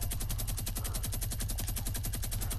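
Rapid automatic gunfire in the Fortnite video game, a continuous burst of evenly spaced, loud shots rattling through the entire stretch with no talk over it.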